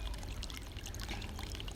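Water circulating through a garden pond, drawn in by a pump sitting in a skimmer and pushed out at the far end, makes a steady, moderately quiet pouring and trickling sound with no voices.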